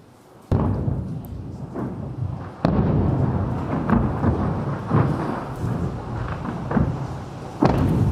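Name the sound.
missiles falling on Tel Aviv and anti-missile interceptions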